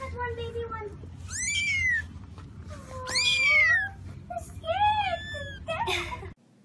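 A cat gives several drawn-out, wavering meows in quick succession, some rising and falling like whimpers, loud and close with brief pauses between.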